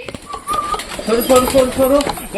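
Indoor domestic pigeons, desi birds kept as pets, give soft low cooing calls, close and clear over about two seconds, with a person's voice also present.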